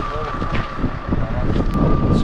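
Steady wind rushes across the microphone outdoors on a cold day during a bike trip, a constant broadband roar with a faint tonal hum running through it, with no talking.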